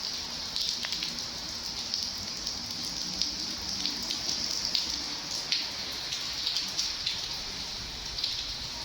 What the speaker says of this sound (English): it's starting to come down the rain already